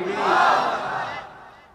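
A crowd of young men roars a takbir chant in unison at an Islamic sermon gathering, a loud massed shout that swells and then slowly fades.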